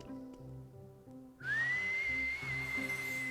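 A single sustained human whistle rises and holds a steady tone for about two seconds, clear and fairly loud after a quieter opening with faint background sound.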